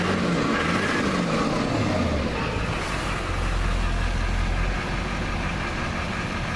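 A 2004 Chevrolet 2500 HD pickup with a Duramax diesel engine runs steadily, a loud close deep rumbling idle with a low drone throughout and no voices.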